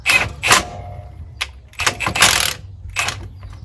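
Impact wrench tightening bolts on a Dodge Ram 1500 front end during a rebuild, firing in several short, loud, rattling bursts with brief pauses between them, close up and with no talk.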